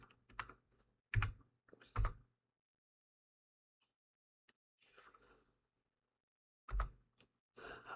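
Someone types on a computer keyboard in short, sharp bursts of clacking keys, separated by quiet pauses, close to the microphone.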